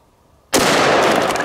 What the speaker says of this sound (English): gonna start out with our Desert Eagle chambered in 50 AE. And we're gonna be loaded up with some Hornady 300 grain jacketed hollow points